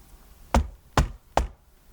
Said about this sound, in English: The knock on my front door almost made me scream